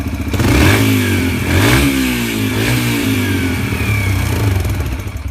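A Yamaha TTR 125 dirt bike engine, fitted with a Rekluse clutch, revs up several times to around 5,000 RPM in close, loud throttle blips that rise and fall over its idle.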